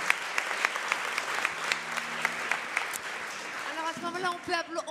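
An audience in a conference hall applauds the organizing and technical team, steady dense clapping that thins out toward the end as a voice begins speaking.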